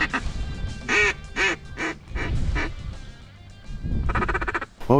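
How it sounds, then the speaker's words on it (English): Ducks quack in bursts at a Louisiana duck hunt on the season opener, several calls close and fairly loud in an irregular rhythm over low outdoor rumble, with a harsher honking burst toward the end. "We already had a duck fly over"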